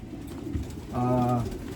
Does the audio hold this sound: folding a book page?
no